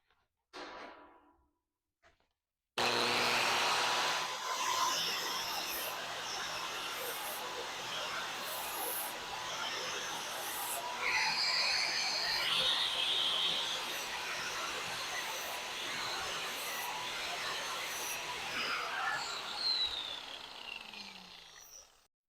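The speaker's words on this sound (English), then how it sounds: "I'm going to have to take a grinder and just take a little bit off to get it blended better" An angle grinder smooths down a high spot on a metal tube during panel work, a steady, harsh whine that starts abruptly and runs continuously, close and loud, with a brief voice before it starts.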